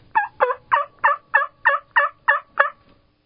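A voice imitates a wild turkey hen call, a run of nine evenly spaced yelping notes, close and clear, with no other sound around it.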